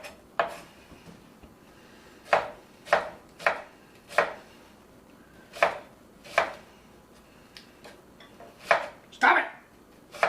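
Knife chopping through an onion on a cutting board, the sharp knocks coming in irregular bursts of single and double strikes, close and fairly quiet, with no voices.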